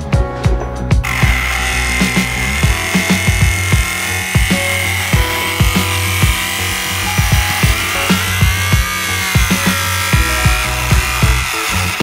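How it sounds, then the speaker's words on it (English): A power tool cuts and trims a fiberglass wide-body panel on a Mitsubishi Evo VIII MR, a loud steady whine with repeated rattling bursts and brief pauses as the cut moves along. "So you've been cutting this piece right here, trimming that."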